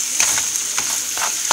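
Guyanese fried rice stir-frying with soy sauce in a hot pan, a steady sizzle broken by repeated scraping stirs at a loose rhythm, close and alone.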